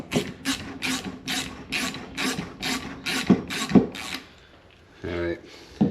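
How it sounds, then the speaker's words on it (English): Fork bolt on a BMW F650GS Dakar motorcycle being snugged with a hand ratchet, about ten regular rasping clicks in a steady rhythm, close, then a pause and a couple more strokes, with a voice in places. "snug this bolt up."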